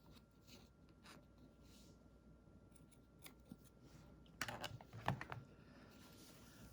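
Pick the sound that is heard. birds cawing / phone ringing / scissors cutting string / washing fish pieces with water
scissors cutting string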